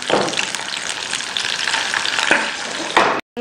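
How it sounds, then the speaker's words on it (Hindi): Green and red chillies with fennel seeds fry in hot oil for a tadka, a loud, close, continuous crackling sizzle with stirring scrapes, cutting out briefly just before the end; no one speaks. "और तकरीबन 30 सेकंड इनको मिक्स करके तड़का लगा लेते हैं।"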